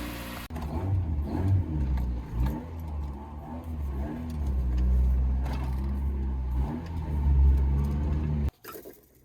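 A B16-swapped Honda EF hatchback engine runs after a jump start, a close, uneven idle with small revs rising and falling over several seconds before cutting off abruptly.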